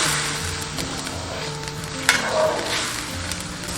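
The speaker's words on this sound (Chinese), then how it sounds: "接着我们下入肉片煮熟。" Sliced pork slides into a boiling pot of spicy Sichuan-style broth for water-boiled three delicacies, with a steady bubbling sizzle, a soft splash and light stirring scrapes close by.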